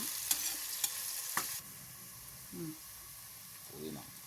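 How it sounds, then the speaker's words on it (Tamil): Onions being sautéed until brownish for vegetable biryani, a soft sizzle with a few sharp spoon clicks early on, then quieter frying as a voice briefly murmurs. "நல்லா இது ப்ரௌனிஷ் ஆகுற மாதிரி நல்லா வதக்கி விட்டுக்கோங்க"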